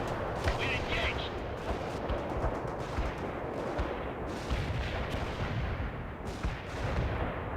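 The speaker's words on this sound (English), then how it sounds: "Fire the missile. Launch the missile now." Missile launch amid a World in Conflict battle: a dense, continuous roar of explosions and gunfire, loud and sustained, with radio-style voices talking over the din.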